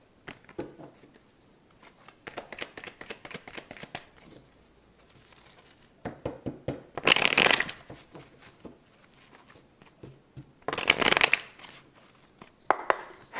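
A small deck of oracle cards is shuffled by hand in a quiet room. Soft, irregular riffling and shuffling runs throughout, with two louder, sharper bursts of card handling partway through and a final one at the end.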